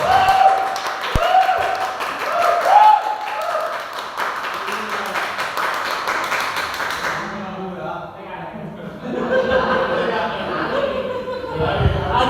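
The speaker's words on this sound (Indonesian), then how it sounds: "Tepuk tangan dulu." Students in a school classroom break into a burst of clapping during a lesson on positive school culture. The applause is brief and scattered, and it sounds under and between lively talking voices.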